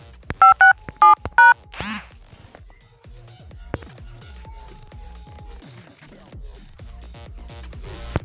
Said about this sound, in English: after dialing the *567 hash, you hit 99 for more, and then you select 6, check balance.